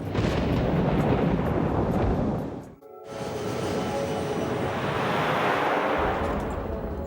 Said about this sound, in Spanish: entra en el centro de una tormenta